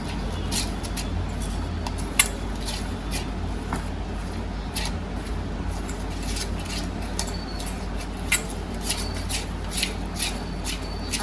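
Chickpea masala paste mixed with food colouring in a bowl, a steady close rubbing and shuffling with repeated soft clicks and taps of a utensil, no talk.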